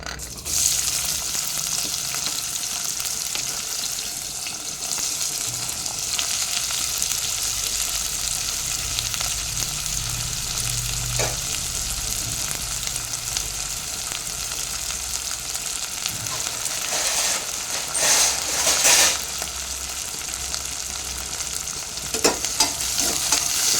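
Chopped onions fry in a few spoons of oil for a mutton curry, giving a steady sizzle with occasional stirring scrapes throughout, loudest near the end, no talking.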